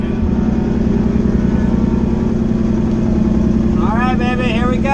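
Datsun 280ZX engine fresh with new spark plugs, a steady loud idle with a dense low rumble throughout, and a brief rising rev or whine near the end.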